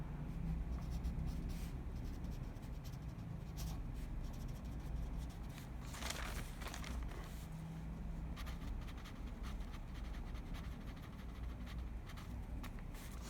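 A pen scratches steadily across paper in short strokes, close but faint, over a low background rumble.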